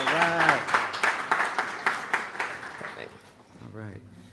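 A room of attendees at a San Francisco tech meetup claps in a short burst of scattered, fairly close applause that fades after a few seconds, with a voice speaking over the start and again at the end.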